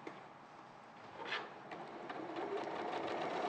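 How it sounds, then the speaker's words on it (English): A sewing machine running steadily as it stitches fabric along a marked line, a continuous close mechanical whir with a faint rhythmic clatter, growing slightly louder toward the end. "So I'm sewing along that lovely clear line towards that mid pin."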